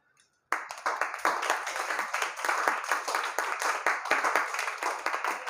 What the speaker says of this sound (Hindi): तो बात समझ तो एक बार तालियां बजा दो